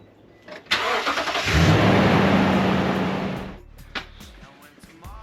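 A Toyota Tundra truck's engine cranks over and catches, swelling into a loud, steady rumbling idle for a couple of seconds before settling back down, close to the microphone, with no talking over it.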